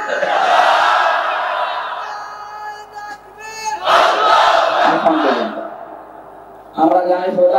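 A large crowd at a rally roars a takbir response in loud, unified chanted shouts, rising in bursts with a brief dip before a final surge of massed voices.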